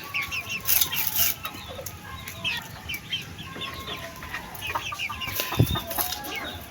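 Young pet chickens around three months old, two white, two gray and one brown, cluck and chirp steadily at close range while being fed, with a brief flutter of wings.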